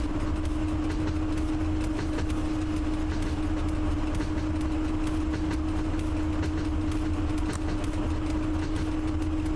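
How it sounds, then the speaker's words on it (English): A train rolls along in the Train Driver 2 video game, giving a loud, continuous rumble with a steady hum and faint rail clicks throughout. "bring this bad boy to appropriate siding, make a stop, secure the train"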